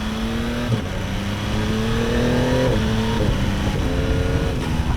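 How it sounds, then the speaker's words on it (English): A 2024 Yamaha MT-09 motorcycle engine drones steadily with shifting pitch as it engine-brakes and slows, close and loud, with no voices. "Engine braking here on the MT-09 is good."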